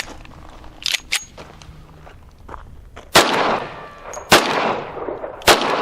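A 1911 pistol fired outdoors, three sharp loud reports spaced about a second apart after a few faint handling clicks, each shot followed by a brief decaying echo.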